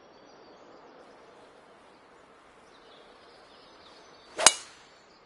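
A golf club drives a ball off the tee in one sharp, bright strike, heard alone over quiet outdoor ambience near the end.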